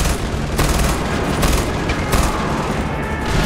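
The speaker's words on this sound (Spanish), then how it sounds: "Entonces con la ametralladora no me los puedo cargar." Machine gun fire in a video game, loud dense bursts of rapid shots with booming impacts filling the whole stretch, no speech over it.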